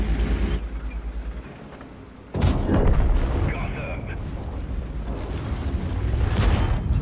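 A tank cannon fires an APCR round in a tank battle video game: one sudden, heavy boom after a quieter stretch, then a sustained rumble of engine and battlefield noise.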